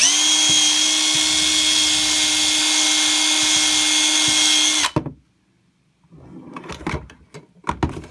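A power drill whines loudly and steadily for about five seconds, then stops, followed by scattered clattering and handling noises.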